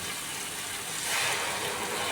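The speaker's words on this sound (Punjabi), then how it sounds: "ਮੈਂ ਆਪਣੇ ਅੰਦਾਜ਼ੇ ਨਾਲ ਇਹਦੇ ਵਿੱਚ ਗਰਮ ਪਾਣੀ ਪਾਇਆ ਤੜਕੇ ਨੂੰ ਪਕਾਉਣ ਵਾਸਤੇ" Hot water poured into a kadhai of paneer masala gravy, a steady close rushing pour with sizzling hiss lasting throughout, rising slightly near the middle.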